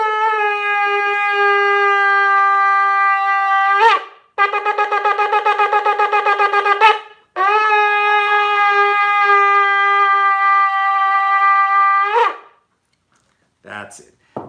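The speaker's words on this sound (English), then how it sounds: "there's going to be 3 blasts together, and it's tikiyah, teruah, tikiyah, which sounds like this." Shofar blasts announcing the start of Shabbos: a long steady tekiah, a broken pulsing teruah, then another long tekiah, loud and close, each blast ending with a rising squeak, followed by brief faint noises.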